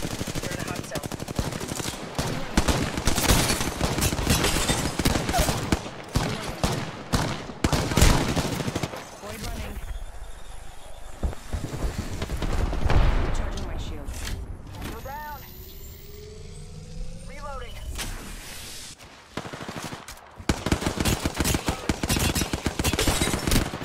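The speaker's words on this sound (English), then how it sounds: "I'm taking shots." Rapid automatic gunfire from Apex Legends erupts in dense bursts, broken by a quieter lull with a few distinct shots and rising tones, then heavy firing resumes; game sound effects mix in throughout.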